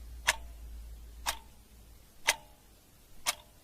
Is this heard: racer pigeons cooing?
no